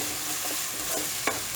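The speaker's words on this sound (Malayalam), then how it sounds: "ഇതൊന്ന് നന്നായിട്ട് ഒന്ന് വഴറ്റുക" A crushed medium onion paste sautés in a hot pan for a brinjal masala, a soft steady sizzle with a few sharp stirring scrapes near the end, close and fairly quiet.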